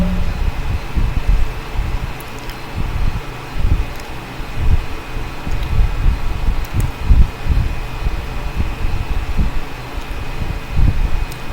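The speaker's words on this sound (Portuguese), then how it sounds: "se você estiver ouvindo um barulho de vento, um som de vento, isso é o ventilador que está ligado aqui atrás" An electric fan runs just behind the speaker during a Linux installation, giving a steady, moderately loud wind-like whoosh with low rumbling gusts that fills the whole stretch without any talk.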